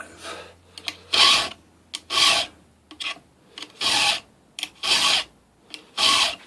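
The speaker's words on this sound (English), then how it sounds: "So it only takes a few minutes to sharpen this saw." Chainsaw teeth being sharpened with a hand file, six evenly spaced rasping strokes, close and loud, each separated by a short pause and small clicks as the file is repositioned.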